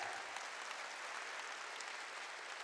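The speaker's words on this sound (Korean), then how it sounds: "박수를 치라요." A church congregation claps together during a sermon, a faint, steady wash of applause heard from a distance.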